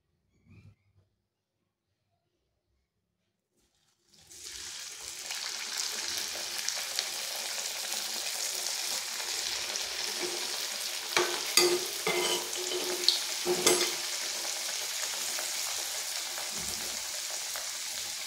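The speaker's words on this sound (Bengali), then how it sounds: "এবার একটা একটা করে সবগুলো ভেজে নেব।" Chandrapuli pitha frying in hot oil in a wok, a steady bubbling sizzle that starts after about four seconds of near silence and keeps going, with a few louder pops and crackles partway through.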